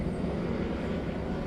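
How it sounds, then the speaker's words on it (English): A police helicopter flies past a house, a steady, loud rumbling drone of rotor and engine that holds evenly throughout with no break. "a goddamn helicopter is passing through my house"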